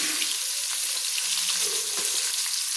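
Two fish heads fry on high flame in a pan for a Bengali pui chyachra, giving a loud, continuous bright sizzle and crackle throughout with no voices.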